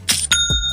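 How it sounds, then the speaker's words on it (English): A short bell chime sound effect signalling a Shopify sale rings out in a few quick bright strikes, with a clear metallic ring fading over under a second. "That's the sound of another sale on Shopify."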